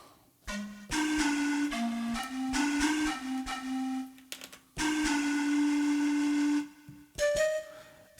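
Pan flute sample triggered on an Akai MPC One, sounding as breathy sustained notes in short melodic phrases with brief gaps between them, clear and upfront with no talking.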